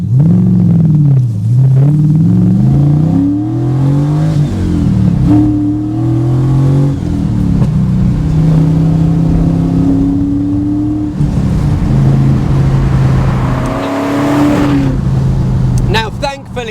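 A powerful 1992 TVR V8S sports car V8 engine revs and accelerates with a deep rumble, pitch climbing and falling through gear changes, loud and close throughout.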